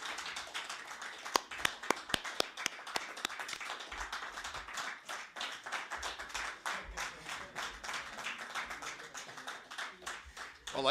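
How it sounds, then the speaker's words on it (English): Prolonged audience applause for conference organizers, sparse claps that build into sustained clapping from a hall crowd, fairly distant and steady, with some talk mixed in. "this protracted applause is an invitation to an encore"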